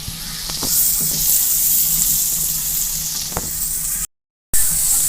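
Masala and tomatoes fry in a pan with a continuous close sizzle and a few light clinks of stirring, a brief cut near the end.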